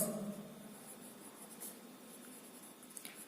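A pen or pencil scratches faintly on paper as words are written onto a class 1 reading and writing worksheet, with soft, intermittent strokes in a quiet room.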